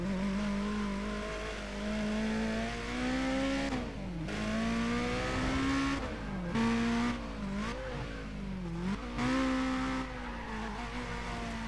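A car in the Need for Speed racing game drones with a loud continuous engine tone that dips in pitch several times as it brakes into a turn, with faint squealing noise on top.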